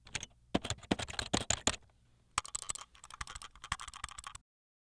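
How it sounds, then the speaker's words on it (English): Steady clicking of a computer keyboard and mouse in a small quiet apartment, irregular bursts of close keystrokes with a brief pause in between, no voices. "The clicking of the keyboard and mouse were the only sounds in the small apartment."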